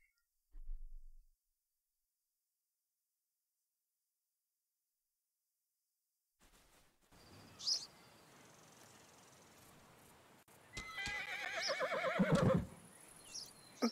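A horse in the video game Ostwind sets out on a ride. Quiet at first, then soft outdoor ambience with faint insect chirps, and a whinny rises near the end.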